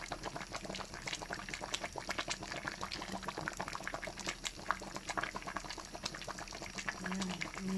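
Coconut milk simmers with tilapia and pechay in a pot, giving a steady close bubbling boil with dense popping throughout, with no speech.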